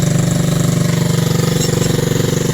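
A homemade DIY cement mixer's engine runs steadily and loud up close, its drum turning with an even, rapid pulsing throb and no pauses.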